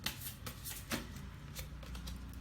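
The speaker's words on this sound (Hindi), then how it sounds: "तो देखते हैं और" Tarot cards are shuffled by hand, a soft, quiet riffling and flicking that runs through the short stretch.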